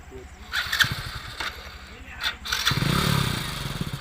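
A motorcycle engine sputters to life and revs steadily near the listener, with people talking over it before and during the start.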